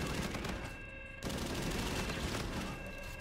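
Rapid automatic gunfire in a first-person shooter game, a dense continuous burst of shots with a brief gap near the middle, loud and close.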